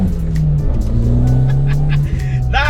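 A 191 bhp big-turbo Fiat Punto pulls hard, its loud steady engine drone rising under boost before a sharp whistling flutter bursts out at the very end, recorded close up.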